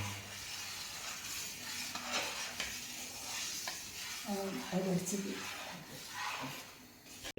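Food stirred in a sizzling pan during a Kerala mango-season family cooking session, with steady frying hiss and scraping strokes of a spoon, a clearer burst of stirring midway, faint voices in the background.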